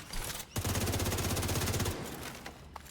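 A minigun in a shooter video game fires a long, rapid, buzzing stream of shots for well over a second, loud and close, then stops abruptly with a few faint clicks after.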